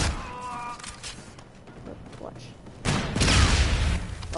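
Gunfire in the Call of Duty video game, scattered shots early, then a loud burst of rapid fire and booms in the last second and a half.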